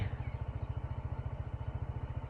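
A Honda PCX scooter's engine thrums close by with a steady, rapid pulsing beat on a rocky village road, loud and unbroken throughout with no talk over it.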